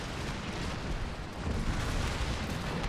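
Cannons firing in the video game Empire 2 during a Scotland battle, a continuous rumbling roar of blended artillery booms and noise with no clear separate shots.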